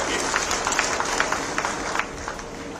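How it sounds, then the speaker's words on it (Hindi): Applause from a crowd at a Kargil Vijay Diwas ceremony honouring two soldiers, a steady scatter of clapping that carries on at moderate level throughout, with a voice faintly audible beneath. "इन दोनों जवानों के लिए एक बार हमको ताली जरूर बजानी चाहिए"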